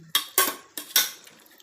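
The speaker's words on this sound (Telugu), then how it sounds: "ఇప్పుడు ఈ మిశ్రమాన్ని మొత్తాన్ని మనం బాగా కలుపుకోవాలండి" Masala mixture for goat head curry being stirred, heard as four sharp metallic clanks of a spoon against the pot in quick succession, loud and close, with no talking.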